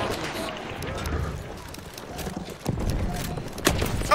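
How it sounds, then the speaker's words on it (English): Horse hooves clatter in a fast gallop during a Battlefield 1 multiplayer match, mixed with rumbling battlefield noise and distant gunfire at moderate loudness, with no speech over it. "Here comes a horse."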